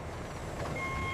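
A truck at a factory loading area sounds its reversing alarm, a steady high electronic tone over a low idling engine rumble that holds through the whole short stretch, with no talking.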